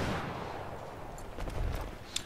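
Faint Battlefield 3 gunfire, including SKS rifle shots, with a few sharp distant reports popping over a steady wash of battlefield noise.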